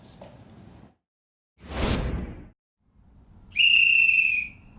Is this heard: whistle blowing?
yes